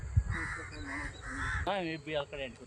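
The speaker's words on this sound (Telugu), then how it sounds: "పక్షులు" Birds call with harsh, crow-like caws, several repeated cries close by, while a person talks over them.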